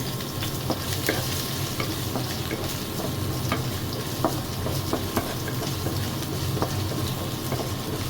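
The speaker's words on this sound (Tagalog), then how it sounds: "Okay, yung mainit na yung mantika. Halo natin yung bawang." Garlic sautéing in hot cooking oil for sardines with udon, a steady close sizzle with scattered pops and light stirring scrapes, continuous and even with no voices.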